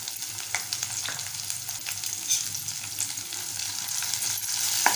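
Curry leaves, green chili pieces and mustard seeds sizzle and spatter in hot oil while tempering for tomato upma, a steady close frying hiss with sharp pops and crackles throughout.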